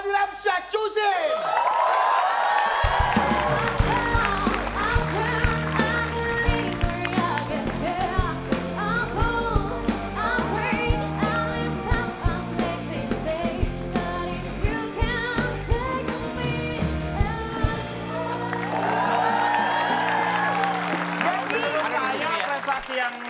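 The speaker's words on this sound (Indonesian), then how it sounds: "Tepuk tangan yang paling mulia dong buat Muhammad Adilam Syacusin" Studio audience on an Indonesian TV quiz show breaks into loud, sustained applause with whoops and shouts. The clapping is dense and continuous, with music-like tones and voices rising over it at the start and end.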